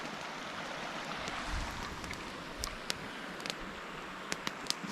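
A creek flows beside a wilderness camp in Georgia, a steady soft hiss of running water close by, with a few faint clicks and ticks scattered through it.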